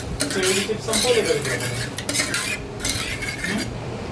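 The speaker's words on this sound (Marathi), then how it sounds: "मी डाळ व्यवस्थित एकजीव करून घेते" Cooked dal mashed in a pot with a ladle, close and clattery, with repeated scraping and knocking of metal against the vessel in irregular bursts.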